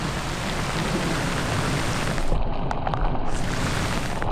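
Heavy rain pours down steadily in a flood-threatened farm area, a dense, constant roar of falling water that swells slightly louder midway, with no talking.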